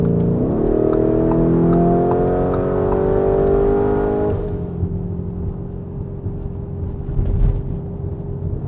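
A Lamborghini Urus SUV in Corsa mode on a public road: a loud, close engine drone climbs steadily in pitch for about four seconds, then drops abruptly to a lower, rougher idle-like rumble.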